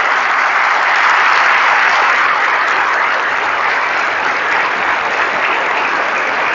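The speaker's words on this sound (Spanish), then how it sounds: "Me hacen el favor de darle un aplauso a Cristo y a esa señora." A church congregation breaks into loud, sustained applause honoring Christ and a woman, a dense even wash of clapping hands that fills the whole stretch without letting up.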